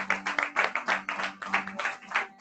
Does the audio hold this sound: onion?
no